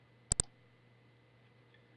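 Computer mouse clicks on a website: two quick, sharp clicks close together, then a single click after a pause, quiet against a faint steady hum.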